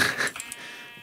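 Sheep bleating in the video game Minecraft, one or two short, loud bleats at the very start that quickly fade, with nothing else heard.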